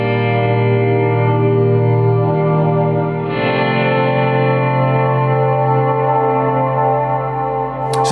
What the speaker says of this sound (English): So that gives you a nice swell sound in itself,